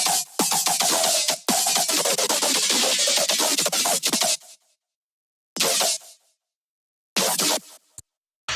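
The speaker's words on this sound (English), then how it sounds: "what I also like to do is use Granulator too, to just kind of like resample some of the whole drop" A resampled electronic dance drop run through a Granulator effect in music production software, heard as loud, dense, choppy granular bursts that cut off abruptly into silence and return in short stuttering fragments.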